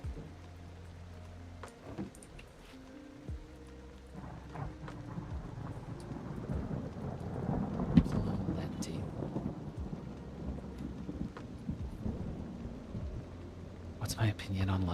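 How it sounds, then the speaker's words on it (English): Thunderstorm with steady rain in the Minecraft video game, low rumbles of thunder rolling under continuous rainfall at moderate level, with a person speaking over it throughout. "The storm honestly kind of helps with the background noise."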